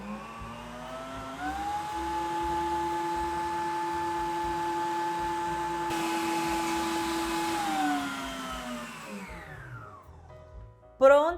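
Hand-held electric mixer whipping egg whites to stiff peaks at high speed for a gluten-free banana cake, a loud steady motor whine that holds, then winds down and stops.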